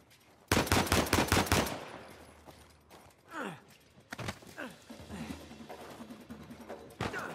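Sniper and other gunfire in Uncharted 4 on hard mode: a rapid loud burst of shots at the start, then scattered shots and impacts, with game voices and effects between.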